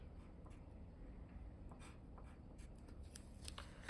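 Pen scratching across paper while a maths answer is written out, soft and close with small stroke bursts over a steady low background hum.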